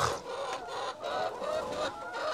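Chickens cluck and murmur inside a coop, a faint, steady chorus of soft repeated calls with no one talking.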